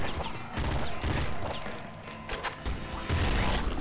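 Assault rifle fire in the top-down shooter Nuclear Throne, a dense, near continuous barrage of rapid gunshots and crashing impacts with brief dips, loud and close throughout.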